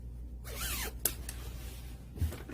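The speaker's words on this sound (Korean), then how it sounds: "지퍼를 살짝 닫아주시고" A concealed zipper on a dress is pulled along in a short, close rasping zip, followed by a sharp click and a faint soft handling sound of fabric.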